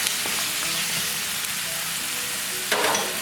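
Onion frying in a pan for a Kerala-style spicy crab masala, a continuous close sizzle with a couple of scraping stirs and a sharper clatter near the end, no voices.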